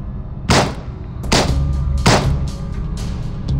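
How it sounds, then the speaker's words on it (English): Gunshots ring out in the video game Reverse1999: three loud, sharp reports with clear gaps between them, followed by fainter shots near the end, over a low background hum. "Gunshots? What?"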